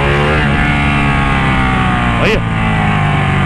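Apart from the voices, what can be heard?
Ducati Panigale 1199 motorcycle engine revving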